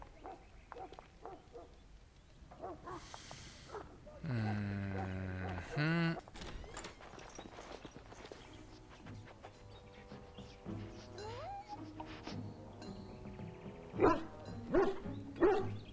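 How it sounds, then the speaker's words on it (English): A big dog barking inside a castle kitchen in the video game Dragon Age: Origins, a few sharp barks near the end amid game music, effects and character dialogue. "That's a big ass dog."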